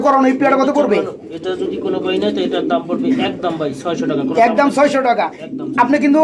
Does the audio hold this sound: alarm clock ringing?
no